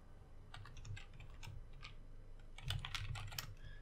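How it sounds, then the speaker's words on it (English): Keystrokes on a computer keyboard while setting up a DayZ server message file, a run of light, quick taps in irregular rhythm that grows busier and slightly louder toward the end, close up with no talking. "if I could type here"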